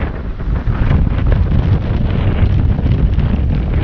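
Wind blowing near fishing rods, a loud continuous rumbling buffet against the microphone lasting a few seconds with no voices.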